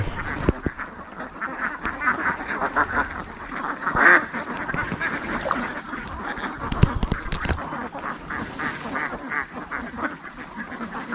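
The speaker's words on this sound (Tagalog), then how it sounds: "kala ko nga itik mo pa yan eh" Ducks quack repeatedly near a fishing spot, a busy chorus of nasal calls overlapping throughout with a few sharper honks standing out.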